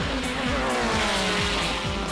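Toyota Supra race cars, including the Esso Supra, battle on a short straightaway, engines roaring loudly and close by with repeated gear-shift dips and a brief tire squeal, a continuous dense racing drone.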